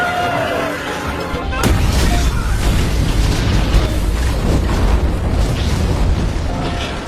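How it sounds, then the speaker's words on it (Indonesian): A carousel blowing up in a film scene: a sudden heavy blast followed by a long, loud, rumbling roar of debris and fire that continues to the end. "emanjat ke komedi putar untuk menangkap Ron, ia pun kabur dan meledakkan komedi putar itu hingga menjadikan tempat tersebut kuburan para koboi."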